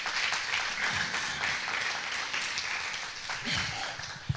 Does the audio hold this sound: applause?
yes